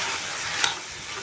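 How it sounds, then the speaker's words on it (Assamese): Vegetable bhaji sizzles in slightly too much oil as it is stirred, a close, steady hiss with one small tick partway through and no voices. "এয়া ভাজি বনাই আছোঁ।"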